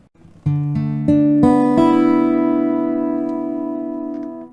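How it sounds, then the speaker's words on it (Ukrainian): A sustained guitar tone enters and swells louder in several stepped surges, a crescendo holding full volume before easing slightly at the end. "Крещендо граємо від тихого до гучного."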